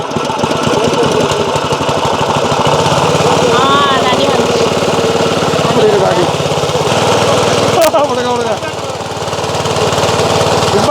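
A village water pump engine runs at a well, a loud, rapid mechanical chugging that persists throughout, with voices talking over it at times.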